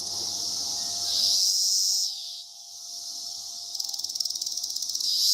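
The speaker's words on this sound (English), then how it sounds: "Cicadas." Loud, shrill cicada buzzing that swells, dips briefly, then returns with a pulsing, rattling rhythm toward the end.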